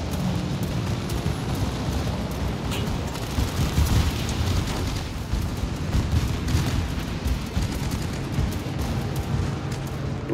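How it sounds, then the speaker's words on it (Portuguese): Anti-aircraft guns fire continuously in the naval combat game World of Warships, a dense unbroken barrage of rapid booming shots with rumbling low-end blasts sustained throughout. "Tripulantes do canhão antiaéreo em alerta máximo."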